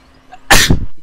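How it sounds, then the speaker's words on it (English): A single loud, close sneeze, a sharp burst after a short intake of breath, with nothing else around it. "That was a sneeze."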